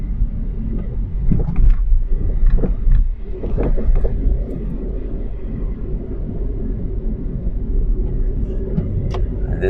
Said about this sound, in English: gonna drive all the way to downtown.